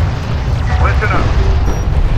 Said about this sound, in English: Alert. Light attack vehicle destroyed.